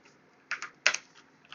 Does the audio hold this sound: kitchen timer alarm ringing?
no